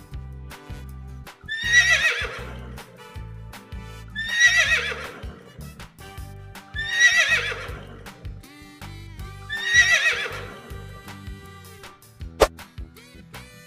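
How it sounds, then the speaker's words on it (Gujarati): A horse neighs four times at regular intervals, each whinny loud and drawn out, with faint hoof clops and a sharp knock near the end. "ચાલો બાળકો હવે આપણે ઘોડાને જોઈએ અને તેનો અવાજ સાંભળીએ"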